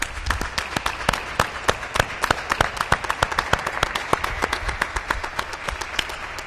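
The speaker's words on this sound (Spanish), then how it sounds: "para vos este aplauso enorme" Loud, enthusiastic applause from a crowd honoring a guest at a farewell event, dense overlapping claps with sharp individual strikes close by, sustained throughout.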